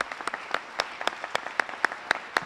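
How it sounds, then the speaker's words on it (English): A high school graduation audience applauds, with dense, bright clapping from many hands sustained evenly for a couple of seconds, fairly close. "Parents, give them a round of applause."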